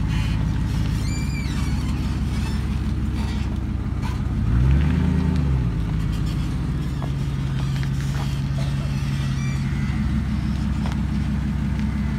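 A truck backing up with a trailer between posts, its engine droning loudly and continuously throughout, with a brief swell in revs partway through.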